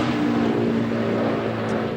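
A NASCAR Nextel Cup stock car engine drones during a 2005 qualifying lap, a sustained loud roar with a steady tone and no voices.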